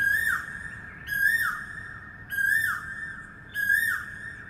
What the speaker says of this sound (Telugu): ఇలా ఈ కోయిల సౌండ్స్ ఇవన్నీ అసలు ఈ మధ్యకాలం చాలా తక్కువైపోయాయి.